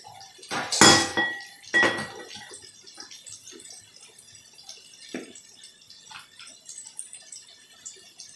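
A metal pot lid clanks loudly as it is lifted off a pan of spicy Bengali fish curry, followed by a second clatter and then soft, intermittent scraping and stirring as spices are mixed in.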